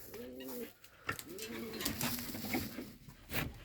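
Pigeons coo in soft, throaty phrases, several repeated calls close by, with light rustling and taps between them.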